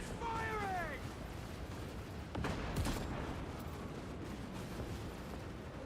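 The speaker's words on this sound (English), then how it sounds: "we got mortars. We got like a basilisk gun here." Mortar and Basilisk artillery fire booms through a Space Marine 2 battle, with one heavy blast standing out amid continuous rumbling combat noise. Shrill descending electronic squeals sound early on.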